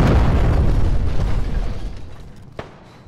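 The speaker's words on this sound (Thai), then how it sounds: "ยิงปั๊มน้ำมันระเบิด" A gas pump blows up in the DayZ survival game's snowy Frostline map, a heavy booming explosion that rumbles and decays over a few seconds, followed by a sharp smaller pop near the end.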